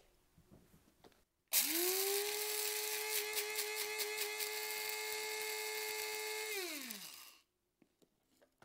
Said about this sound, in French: Je les mets dans mon mixeur.